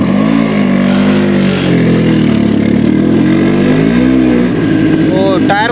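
A scooter engine revs hard while ridden through a gravel riverbed, its loud wavering drone rising and falling continuously and then settling into a rough, pulsing idle-like rumble near the end, with people talking over it.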